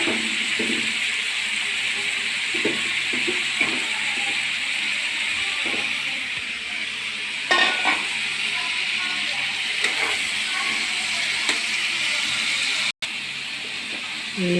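Tomatoes sizzle and fry in a pan for a dum biryani gravy, a steady hiss with occasional scraping stir sounds and soft clinks.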